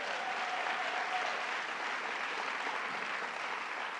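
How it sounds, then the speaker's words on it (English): An audience claps steadily at a bill-signing event on removing guns from domestic abusers. The even, sustained applause fills the whole stretch and sounds moderately distant, with no speech over it. "Let's give her a round of applause."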